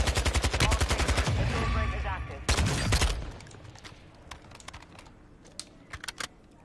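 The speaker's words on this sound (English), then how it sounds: "Who's doing that shooting?" Loud rapid automatic gunfire in a battle royale video game for about three seconds, then it breaks off and leaves scattered faint clicks and small distant sounds.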